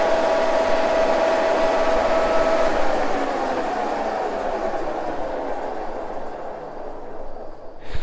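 A Wohlhaupter UK4 taper-cutting milling machine rotary head runs with a loud, steady whirring drone that slowly winds down and fades, ending with a brief clunk.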